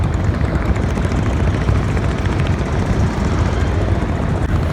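On the Buriganga river, a motorboat's engine drones loud and close, a dense, steady mechanical roar that fills the whole stretch without letup.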